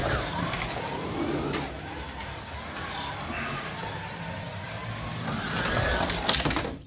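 A Policar Maserati slot car running on its track, a faint continuous whirring electric motor with a light rattling hum, steady then slightly louder toward the end.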